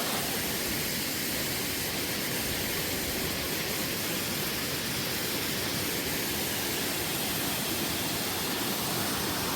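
A waterfall on Minnesota's Superior Hiking Trail, the state's second highest, roars with a constant, dense broadband rush that stays steady and fills the scene without pause.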